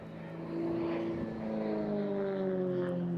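Aircraft flying an airshow display with two pilots give a sustained engine drone with steady humming tones that slowly shift in pitch as they pass, moderately loud and alone without talk.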